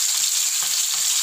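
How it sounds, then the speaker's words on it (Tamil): Fish frying in hot oil for prawn gravy, a steady close sizzle and crackle with faint low stirring bumps, no talk. "இப்போ எண்ணெய் சூடாகிடுச்சு, நான் மீன் போட்டுக்கிறேன்."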